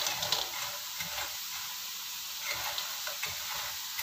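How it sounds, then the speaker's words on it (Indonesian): Taro and anchovies fry crisp in hot oil, a close, steady sizzle with light crackles and occasional stirring clinks. "Ini udah aku goreng kering ya, ini udah bunyi gini kerotak-kerotak ini ya"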